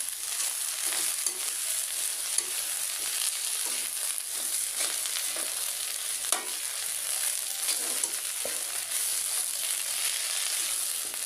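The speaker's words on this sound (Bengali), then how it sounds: "এই যে আলু ভাজি হচ্ছে" Potatoes fry in a pan, giving a steady, fairly quiet sizzle with scattered light crackles and the scrape of stirring, close by and with no voices.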